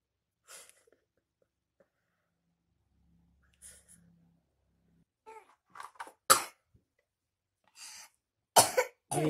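Coughing at close range, a series of short bursts and harsh barks scattered through near silence, growing louder toward the end, with a couple of sharp, forceful coughs.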